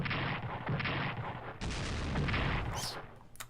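Artillery fire in the Strategic Command WWII strategy game, a continuous loud rumbling barrage with booming low end that shifts to a brighter burst midway, ending in sharp high cracks.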